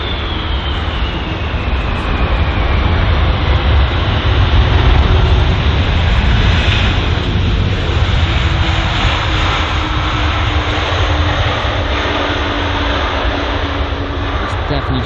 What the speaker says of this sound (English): we see the DHL aircraft there, just arriving at runway 27 right.